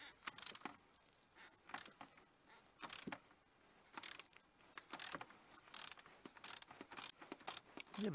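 Ratchet wrench loosening the intake manifold bolts on a BMW M57 diesel engine in an E60, heard as bursts of rapid clicking strokes repeated through the whole stretch, close and fairly loud.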